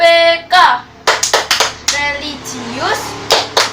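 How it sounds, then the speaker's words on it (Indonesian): A fifth-grade class does a rhythmic clap routine, with crisp bursts of hand claps in patterned groups alternating with children's and an adult's voices speaking and chanting, all close and loud. "Kita tepuk PPK bersama-sama agar semangat kita kembali menyala."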